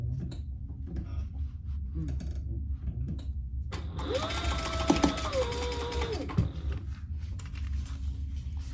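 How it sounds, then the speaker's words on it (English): A sewing machine stitches two fabric pieces together along the seam allowance, a short whirring mechanical run with rising and falling motor pitch in the middle, surrounded by quieter handling noises and low room hum. "So I'm going to sew those two together at the seam allowance in the pattern."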